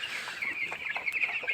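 Eleven-day-old broiler chickens in a poultry shed, a flock of about 500, keep up a dense, continuous chorus of high peeping and clucking at moderate volume.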